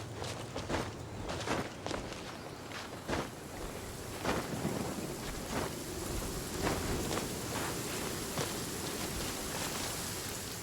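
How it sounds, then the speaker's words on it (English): Steady rain hisses over a stormy backdrop in the video game Genshin Impact, with quiet rumbles of thunder and a regular patter of footsteps moving through it. "Oh no, it's raining!"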